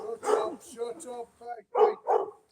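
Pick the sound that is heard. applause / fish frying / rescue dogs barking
rescue dogs barking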